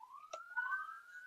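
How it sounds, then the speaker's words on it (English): A faint siren tone glides slowly upward in the distance, steady and thin, with a brief clatter partway through. "Sorry for the sirens in the background."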